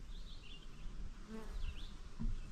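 Honeybees near their hive buzz faintly and steadily, a soft hum that rises and dips as insects pass close by.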